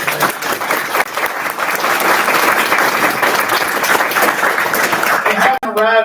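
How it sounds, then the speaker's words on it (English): A town council meeting audience gives a sustained, dense round of applause that stays loud throughout, with voices mixed into the clapping. "give them another round of applause"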